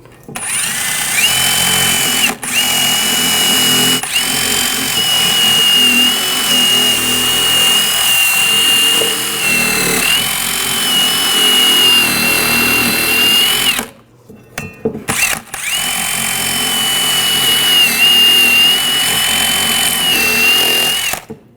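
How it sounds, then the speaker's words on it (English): A wire brush, likely power-driven, whines steadily while cleaning the brake caliper bracket of a 2001-2009 Volvo S60 during front brake replacement, a loud continuous grinding drone with a short break midway. "Just use a wire brush, clean up the area where the brake pads are going to sit."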